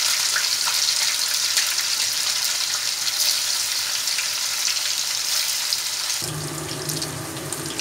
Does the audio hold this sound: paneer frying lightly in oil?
yes